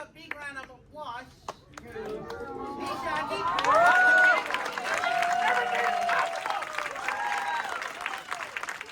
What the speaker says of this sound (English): Now let's give a big round of applause.